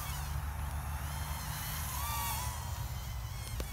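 A small quadcopter racing drone hovers nearby, its high whine steady and insect-like, close to a bee's buzz. The whine holds at a constant, moderately loud level for several seconds, with no voices.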